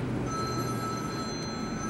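A cell phone rings in the background of a baseball card box break, thin high steady tones sitting faintly over a constant room hum, with no talk.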